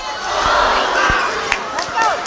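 Crowd at a boys varsity high school basketball final in Brecksville rises in a loud, sustained roar of reaction after a missed shot, with sharp ball bounces and court thuds cutting through the noise.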